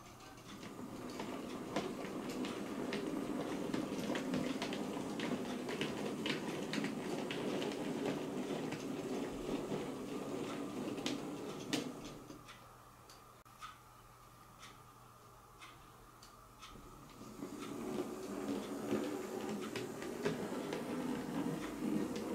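Hattons Andrew Barclay model railway locomotive on a test run, a steady whirring motor hum with light ticking of wheels over rail joints, briefly quieter midway before picking up again.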